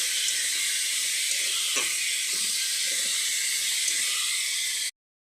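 Flat beans from the garden sizzling and hissing in hot oil in a pan, a steady loud frying hiss throughout with a few soft pops, then cutting off abruptly.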